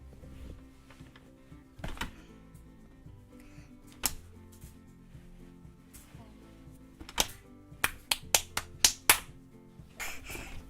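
A child claps hands at home, a quick burst of about five sharp claps close to the listener following a few scattered slaps, over faint room noise.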